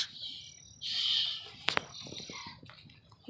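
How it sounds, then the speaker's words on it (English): Crickets chirping along a nature trail: a steady high trill, with a brief louder swell and a few clicks, heard alone with no talking. "Hear the crickets?"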